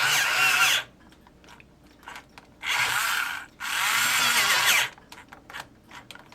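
A power drill bores into a plugged part of a model ship with a bit slightly larger than the shaft, whirring in three close, loud bursts separated by quiet pauses and small handling clicks.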